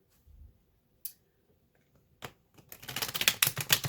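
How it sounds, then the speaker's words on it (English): New, stiff playing cards are shuffled, starting with a few sparse flicks and then building into a fast, crisp riffle of rapid snapping cards, close and fairly loud. "I'm still getting my shuffling together, y'all."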